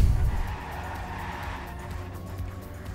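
A race car in a racing video game roars steadily with tire noise and a brief skid at the start, continuous and fairly loud, with no talk.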